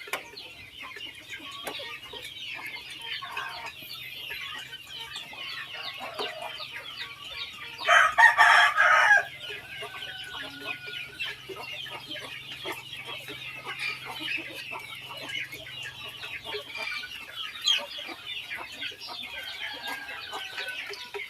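Free-range village chickens cluck steadily at a distance while a rooster crows once loudly partway through, with a low hum running underneath.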